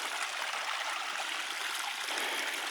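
Steady rushing of flowing stream water at Tanque Verde Falls near Tucson, Arizona, a dense broadband wash that stays constant and fairly close throughout, with no voices.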